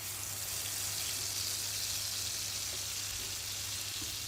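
Ground masala paste frying in oil in a pan, a continuous even hiss of sizzling with a low steady hum underneath, quiet and without speech.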